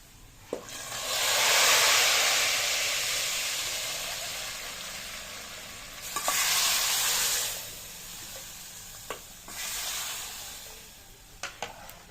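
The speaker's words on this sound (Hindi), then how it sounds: "तड़का लगा देते हैं।" Cumin seeds temper in hot oil for a tadka, hissing in three swelling waves of sizzle with small pops and clicks between them.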